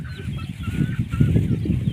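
Several chickens cluck softly and repeatedly nearby at evening feeding time, a busy low chatter of fowl with a faint wind-like hiss behind as rain threatens.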